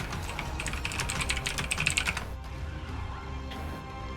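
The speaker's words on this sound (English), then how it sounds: "it did sound like you just picked up your keyboard and rolled it down a flight of stairs" Computer keyboard keys hit in a rapid, dense flurry of clicks for about two seconds, then a few scattered taps over a low background hum, fairly close.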